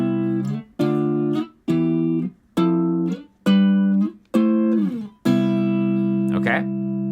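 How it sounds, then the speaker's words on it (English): Electric guitar chords played in short, separate strums moving down the fretboard, about seven distinct chords with clean gaps between them, the last one left ringing; close and clear with no talking. "So we're gonna run this down the fretboard,"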